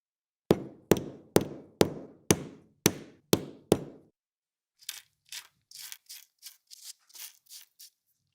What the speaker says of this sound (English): I carefully hit it with the hammer